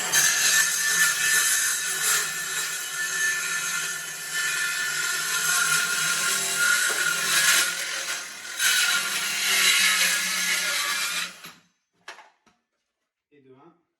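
A wooden board is sawn for a wall-mounted bar shelf, a sustained, rasping cut with steady rhythmic strokes that runs for about eleven seconds, ending abruptly, followed by a few faint handling knocks and a brief voice.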